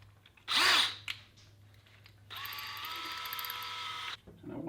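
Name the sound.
power drill drilling hole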